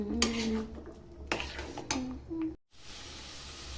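Carrot halwa with khoya is stirred in a kadai, a spoon scraping and clinking against the metal in irregular strokes, close up, with a few faint voiced tones in the background and a brief drop to silence near the end.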